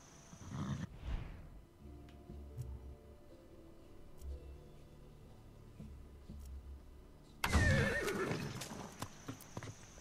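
Horse in the video game Far Cry 6 gives a short snort, then soft clip-clop hoofbeats and quiet movement, ending in a loud, close, shrill neigh near the end; no talking.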